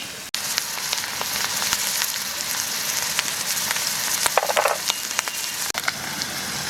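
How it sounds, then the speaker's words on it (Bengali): Chili paste hits a hot pan for a Bengali masoor dal with taro leaves, giving a steady, close sizzle of frying that runs the whole time, with a brief louder spatter partway through and no voices. "এবার দিয়ে দেবো লঙ্কা বাটা"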